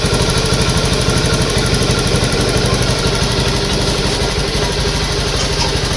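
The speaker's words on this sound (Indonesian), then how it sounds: "jadi ini motornya udah bisa hidup" A fuel-injected Honda motorcycle engine idles steadily after repair, a loud, close, even mechanical thrum with a fast regular pulse and no talking.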